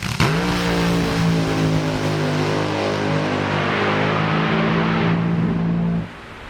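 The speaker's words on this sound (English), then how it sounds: "We'll listen to that RPM rise." A nitro-burning AA/Fuel dragster engine at a nostalgia drag race screams at full throttle, its rising RPM holding as a loud, harmonic-rich howl for about six seconds before cutting off abruptly.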